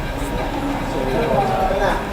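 A train rumbles steadily while riding through Hong Kong, a low continuous rolling drone beneath nearby talking voices.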